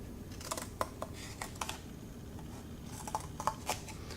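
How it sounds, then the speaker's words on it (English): Scissors snip tabs on a cardboard weaving loom, a series of short crisp clicks in two small clusters, close and fairly quiet. "I'm going to take my scissors and I'm going to cut those tabs just to the line"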